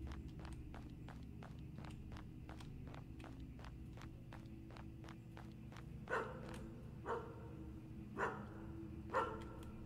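Dog barking in the horror game Graveyard Shift, four or five sharp barks spaced about a second apart, heard over a steady run of regular footsteps and a low droning ambience.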